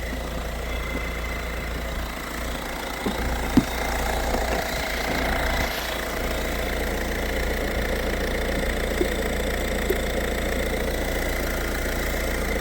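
A Peugeot 1.6 HDi diesel engine idling with its electric cooling fans running, a steady low rumble and broad whooshing drone holding evenly throughout with a few faint clicks.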